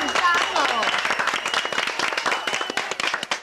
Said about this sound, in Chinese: 来，掌声鼓励。